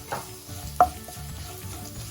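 Curry leaves hitting hot oil with roasted ginger and garlic in a pan for Kerala-style beef chaps, giving a soft steady sizzle with a brief sharp crackle burst near the start, close and moderately quiet.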